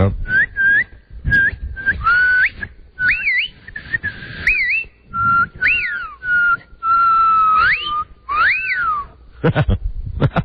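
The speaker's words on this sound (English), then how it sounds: "I can just do wolf whistles" A person whistles repeatedly, short flat notes and rising-falling swoops like wolf whistles, loud and close, with brief gaps and some breathy noise between.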